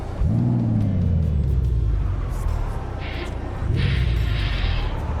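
Peterbilt 389 truck engine in American Truck Simulator, a deep rumble that swells into a brief rev near the start, then settles and rises again, loud and close with no voices.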